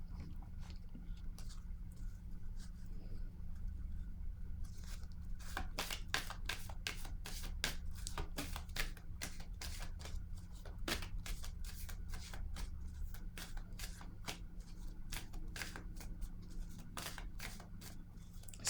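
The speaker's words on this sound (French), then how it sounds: "Je vais déposer maintenant une carte ici." Playing cards are laid down and handled on a table, with soft crisp snaps, flicks and slides in irregular quick bursts, close and quiet over a steady low background hum.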